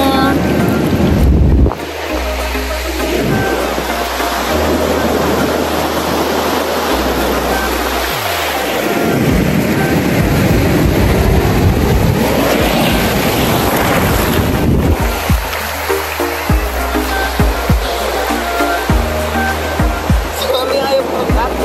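Ocean waves wash and slap around a small boat off Bolinao, Pangasinan, under heavy wind buffeting the microphone, with people talking in between.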